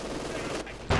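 Brief burst of gunfire from a World War II strategy game battle, with conscripts under heavy fire near Panzerkampfwagen IV tanks; a muffled rattle ends in a sharp loud crack.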